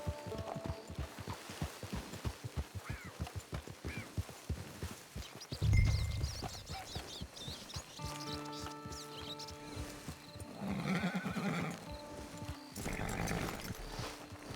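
A horse in the Red Dead Redemption 2 video game clops along at a steady walk, then gives a loud whinny, and a second neigh sounds later over soft ambient music.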